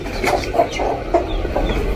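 Several chickens cluck softly nearby in short, repeated bursts over a low background hum.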